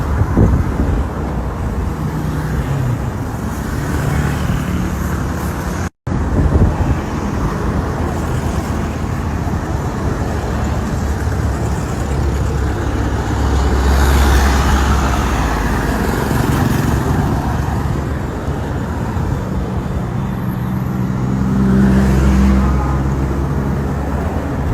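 Steady road traffic rolls past a bridge construction site in Lagos, a constant wash of car and engine noise with occasional wind buffeting the microphone over nearly half a minute.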